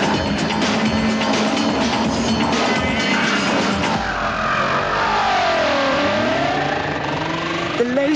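A rear-wheel-drive car is thrown hard around a tight parking-lot course, its engine revving loudly and continuously, with a tyre squeal sweeping through the second half.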